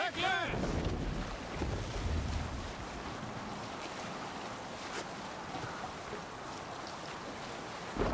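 A Viking longship under way on open water in Assassin's Creed Valhalla, with steady wind rush and a broad wash of sea noise filling the whole stretch and a faint voice near the start.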